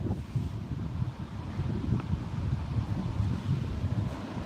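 Heavy rain pouring down outdoors, a dense, continuous rushing hiss with low gusty rumble, steady throughout and with no voices.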